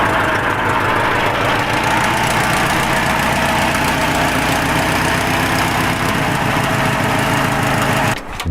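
An air-cooled V4 engine in a homemade SUV runs loud and close while the vehicle backs up in reverse gear, a steady, rough, throbbing drone that holds almost the whole time before a brief dip at the very end.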